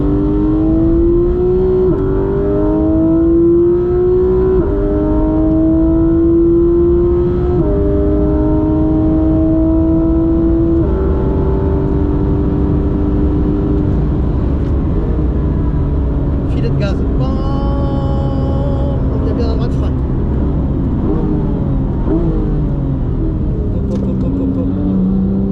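A Porsche race car accelerates hard on a circuit, its loud engine climbing through several gear changes in rising sweeps, close and continuous with a brief clatter midway.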